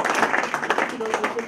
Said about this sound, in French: On applaudit les champions.